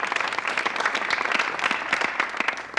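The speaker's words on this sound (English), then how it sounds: "Let's pause for an applause for them." Audience applause at a rebrand announcement event, a steady wash of many hands clapping continuously at moderate volume from a nearby crowd.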